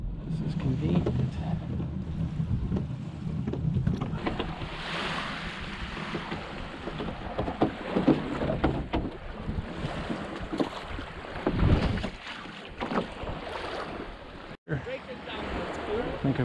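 A sailing kayak paddled along the Lake Superior shoreline, wind buffeting the microphone over lapping water and paddle splashes, with people talking throughout.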